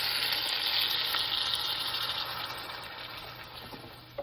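Steady, close sizzling and frying from a pan of grilling lamb as beef stock is poured in, a continuous hiss that eases slightly toward the end.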